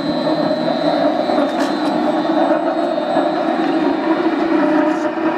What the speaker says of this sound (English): Oh, that motor is going. It doesn't sound very good though. I think it's got a bad bearing.